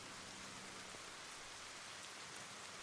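Rain falling in the Ender Lilies video game, a soft, even hiss of downpour that stays constant and fairly quiet throughout, with no talking.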